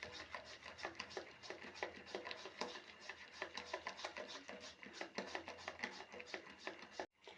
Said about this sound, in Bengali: আরও কিছুক্ষণ ফেটিয়ে নেবেন।